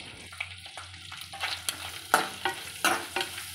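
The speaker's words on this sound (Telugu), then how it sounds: "ఈ మెత్తళ్ళు మంచి గోల్డ్ కలర్ వచ్చేంత వరకు మనం ఫ్రై చేసుకోవాలి" Small mettallu fish frying in a pan with turmeric, stirred with a ladle, giving a low steady sizzle broken by repeated scraping and clinking strokes of the ladle, close up.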